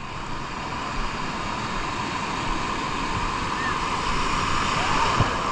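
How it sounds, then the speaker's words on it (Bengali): Large sea waves roll onto the beach at Cox's Bazar at low tide, a steady, loud wash of surf mixed with wind buffeting the microphone, with no clear breaks. "দেখতে পাচ্ছেন কি বিশাল বিশাল ঢেউ আসছে।"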